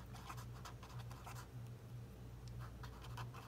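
Numbers are handwritten for a decimals lesson, faint scratchy pen strokes in short bursts over a low steady hum, no talking.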